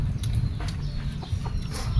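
Chickens cluck at a farmyard feeding spot, soft repeated calls scattered over a steady low rumble of background noise, fairly close but not loud.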